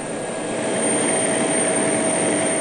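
Steady, loud drone of an airplane engine in flight along the Greenland coast, a constant broadband roar that swells slightly early on and then holds even with no other sounds.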